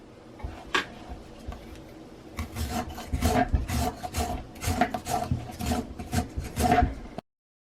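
Rhythmic rasping strokes of a peeler scraping along a raw sweet potato, repeated steadily and close up, growing busier and louder toward the end with no talking.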